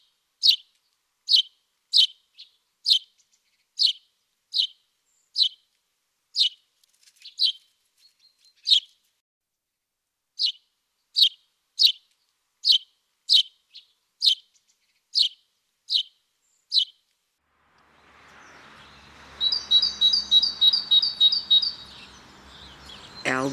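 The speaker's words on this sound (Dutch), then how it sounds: "Brutale mussen nemen nu de overhand." Sparrows in winter giving a long series of sharp, evenly spaced chirps, close and clear against silence, then a brief faster twittering burst with soft background rustle at the end.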